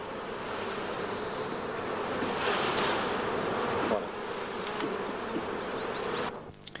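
A dense, continuous hum of many honeybees buzzing close by, steady and enveloping with no voices.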